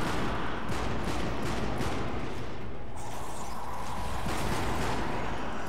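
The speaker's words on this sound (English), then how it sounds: "Can I shoot the pistol?" Gunfire in Sniper Elite V2 Nazi Zombie Army during a co-op fight: a dense, continuous barrage of loud overlapping shots and blasts with no pauses throughout.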